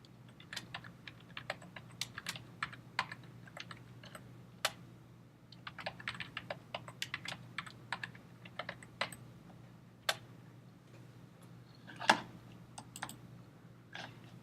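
Someone types a password on a computer keyboard, a quiet, close run of irregular key clicks in short bursts with brief pauses between them and no talking.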